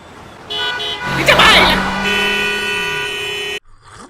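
Car horns honk at a traffic signal in an animated scene: sustained, overlapping tones blare loudly for about three seconds, layered with busy street noise, then cut off abruptly.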